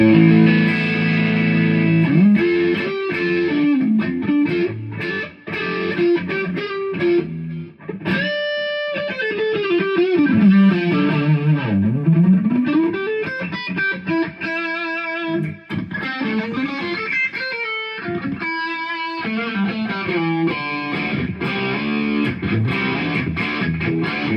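Electric guitar through a Hotone Ampero multi-effects unit plays melodic lines and chords, drenched in reverb with echoing delay repeats, sustained and full, with no voices.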